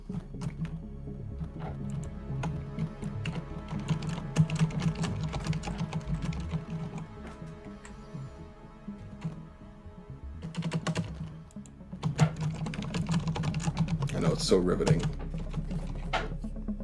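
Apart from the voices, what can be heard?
typing on a computer keyboard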